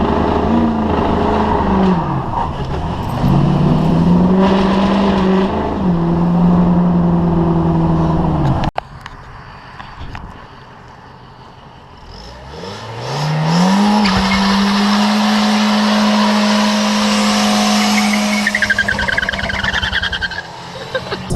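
A Chevy Silverado regular-cab short-box pickup with a 5.3 engine and headers drones loudly while driving, its engine pitch rising as it accelerates, dropping briefly, then rising and holding steady as it pulls into a driveway.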